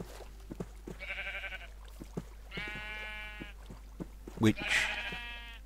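Sheep in the Minecraft video game bleat in three drawn-out calls spread across the moment, fairly clear over a faint background, with a brief spoken word near the end.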